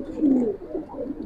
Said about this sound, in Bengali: আর এগুলো একবার পুরান জাতের কবুতর